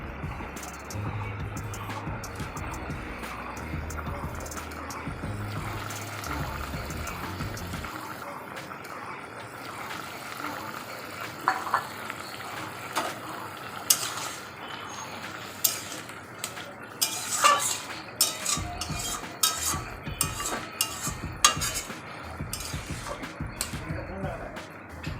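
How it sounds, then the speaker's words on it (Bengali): Paneer pieces go into simmering vegetarian potato-paneer curry gravy and are stirred, with soft spoon scrapes and a few sharp clinks against the pan over a steady low bubbling hiss. "এখন পনিরগুলো ছেড়ে দেব।"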